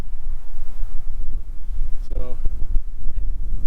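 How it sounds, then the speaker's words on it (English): Wind gusts down a rock face at a mineral sampling site in the Lead-Deadwood area, a loud, continuous low rumble buffeting the microphone, with a brief spoken word over it. "Wind's blowing down that rock face right there."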